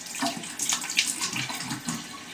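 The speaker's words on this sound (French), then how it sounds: "petit rinçage." Tap water splashes steadily while someone rinses their face at a sink, a close, continuous run of splashing and dribbling.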